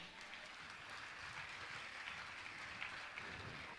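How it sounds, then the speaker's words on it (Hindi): Applause from an audience at a Jain religious gathering honouring a donor, heard as a soft, distant, continuous wash of clapping that holds steady at a low level throughout. "जोरदार ताली बजाकर इनका सम्मान करें"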